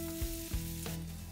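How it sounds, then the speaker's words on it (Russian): Green onion sizzles and crackles in a hot pan for mapo tofu, with a couple of sharp scraping stirs, close and fairly quiet. "Теперь добавляем зеленый лук и жарим еще 30-40 секунд."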